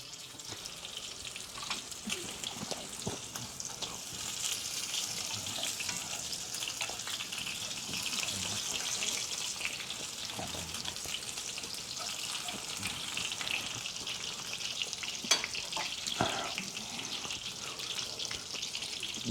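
Coconut panko-crusted lingcod fillets fry in a hot pan, giving a steady bright sizzle throughout with occasional louder crackles and spatters.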